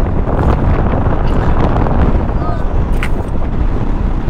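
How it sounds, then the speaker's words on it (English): Strong, steady wind gusts roar across the microphone while riding a Royal Enfield Himalayan motorcycle through a high mountain valley at about 15,000 feet, a loud, continuous broadband buffeting with no pauses. "As we ride through this valley, the gust of wind have really picked up"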